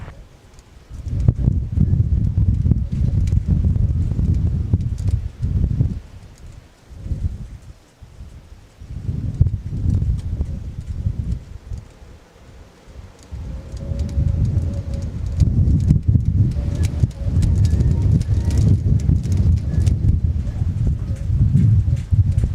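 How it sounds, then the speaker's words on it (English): Strong wind gusts buffet a microphone at an airport aircraft viewing area during a crosswind day, a loud low roar that rises and falls in surges across the clip, briefly easing in a few places. "That gust of wind just very well might have been the strongest that I've felt at the aircraft viewing area"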